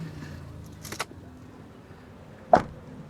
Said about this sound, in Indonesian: udah gue pasangin juga spion electric retract dan udah gue pasangin juga modul retract, jadi pada saat ngunci dia akan melipat secara otomatis